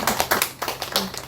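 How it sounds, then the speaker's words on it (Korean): A brief burst of clapping from a church congregation during a Sunday service, a handful of uneven, fairly close hand claps over about a second and a half. "박수 한번 주시기 바랍니다."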